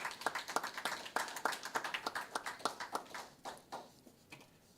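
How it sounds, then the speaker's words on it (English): A small audience at a career and technical education signing day gives a short round of applause, with distinct claps in a loose rhythm that thin out and fade toward the end. "Let's give them a round of applause."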